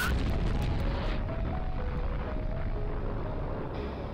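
A fire move attack effect from the video game Gaia's Melody: Echoed Melodies: a loud, sustained roaring blast with a rumbling, eruption-like burst that stays dense for about four seconds.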